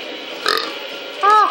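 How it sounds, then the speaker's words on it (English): A loud, close burp lasting a fraction of a second, heard near the end after a short vocal sound, with background voices and ambient noise from an outdoor setting with sand underfoot. "You stop burping."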